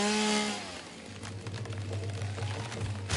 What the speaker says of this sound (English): let's go ahead and unequip this and re-equip the chainsaw